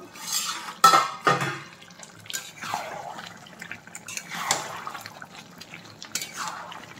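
Chicken curry made with ground spice paste being stirred in a pot, a spoon scraping and knocking against the metal in irregular strokes, close and moderately loud, with a soft wet sizzle underneath.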